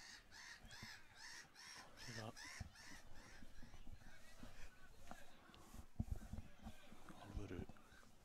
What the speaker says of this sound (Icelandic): Alvöru kríuflug hérna með læti fyrir ofan okkur.